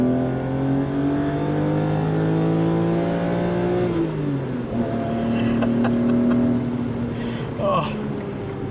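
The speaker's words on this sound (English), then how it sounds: "let's take a listen to this this engine as we pull uphill" A 1993 BMW E34 M5 engine pulls uphill under acceleration, a loud steady drone with rising harmonics that briefly drop at a gear change, then climb again; some faint clicks and voice-like sounds late on.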